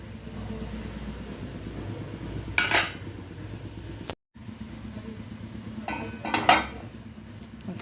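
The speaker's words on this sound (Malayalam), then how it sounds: "എന്നിട്ട് മൂടി കൊടുക്കാം. മൂടി ഇത്തിരി ചെറുതാണ്." A metal lid clatters onto a cooking pan twice, two brief rattling clinks several seconds apart over a faint, steady kitchen background, with no talking.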